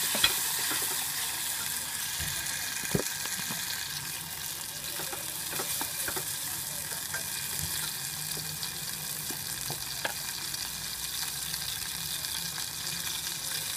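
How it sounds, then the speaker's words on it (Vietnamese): Tomatoes stir-fried in a pan after onions have browned, a continuous bright sizzle with scattered clicks and scrapes of a utensil stirring, steady and fairly close, with no talking. "các bạn cho cà chua vào xào nhé"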